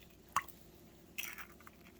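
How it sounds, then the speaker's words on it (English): An egg cracks against a surface and drops into homemade pancake batter of milk and butter: one sharp, close crack, then a brief wet squish and slither about a second later in a quiet kitchen. "We're going to crack our egg."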